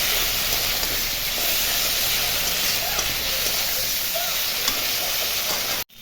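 Spices frying with tomato, turmeric and salt alongside potatoes for a bata fish curry, being stirred: a steady, close hiss of sizzling oil with faint scraping underneath, cutting out abruptly at the end.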